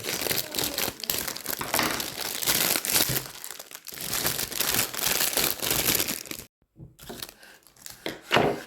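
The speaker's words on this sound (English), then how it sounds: "let's use the scissors and open this bag for the courgettes" Scissors cut open a plastic bag of courgettes close by, rough continuous crinkling and snipping, dense and busy for several seconds, with a brief pause before the rustling picks up again.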